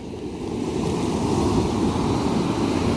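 Ocean waves wash onto a northeastern coastal beach at high tide, a close, steady, full-bodied roar of surf and churning water that carries on without a break.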